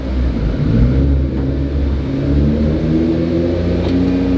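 A Nissan GT-R R35 engine revs up loudly close by, its pitch rising and holding in a deep, rumbling whir.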